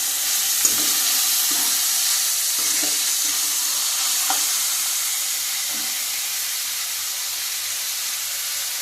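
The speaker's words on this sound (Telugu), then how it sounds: "ఉల్లిపాయ ముక్కలు పచ్చిమిరపకాయలు ముక్కలు వేసుకుంటాను" Chopped onions and green chillies frying in hot oil, giving a steady, fairly loud sizzling hiss throughout with a few faint scrapes and taps, no voices.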